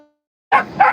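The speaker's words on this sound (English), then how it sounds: "I hear a dog behind me" A dog on a beach lets out two quick, close barks after a moment of quiet, the second slightly louder than the first.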